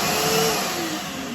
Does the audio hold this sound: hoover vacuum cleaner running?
yes